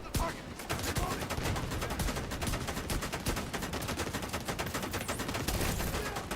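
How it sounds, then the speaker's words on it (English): An enemy turret in The Division 2 hammers away with rapid, continuous automatic fire for the whole stretch, dense and steady, heard at a fairly low level in an online match. "I can't land a shot with that turret wailing on me like that"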